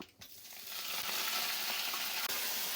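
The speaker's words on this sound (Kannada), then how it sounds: "ಸಾಸಿವೆ ಹಾಕ್ಬೇಕು ಚೆನ್ನಾಗಿ. ನಾನು ದೂರ ಹೋಗ್ತೀನಿ, ಚಟ್ಪಟ ಬಿಟ್ಟದು." Mustard seeds crackle and splutter in hot oil, the start of an upma tempering, as a dense, steady sizzle that swells within the first second and holds close and loud with no talk.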